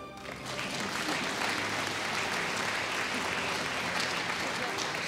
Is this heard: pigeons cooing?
no